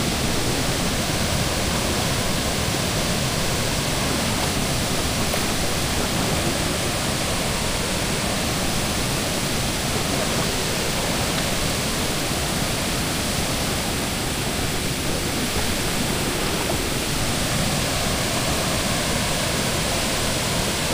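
Tiger Falls in Agusan del Sur, Philippines, pours in a steady, loud rush of falling water that fills the whole scene without pause, a dense, unbroken roar with no voices over it.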